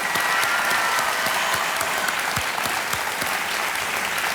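Studio audience on a televised Hindi quiz show breaks into loud, dense applause that fills the whole stretch evenly, a thick wash of many hands with no talking over it.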